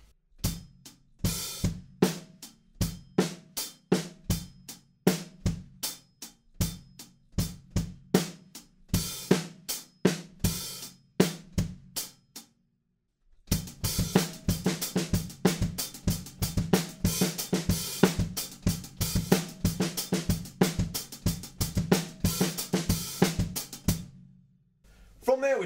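A drum beat with a deep, subby kick: steady punchy hits that drop out briefly near the middle, then return denser and fuller until the end, with no voices.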